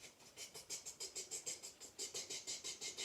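Rain imitated during a children's yoga session: faint, soft rhythmic patter of quick repeated taps, roughly five or six per second, steady and close with no talking.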